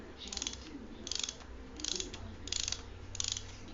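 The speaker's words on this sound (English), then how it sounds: "you just basically use the wrench and a ratchet and just tighten her up" A hand ratchet and wrench tightening a Yamaha Apex snowmobile A-arm bushing bolt, five short bursts of close, quiet clicking in a steady rhythm with pauses between strokes.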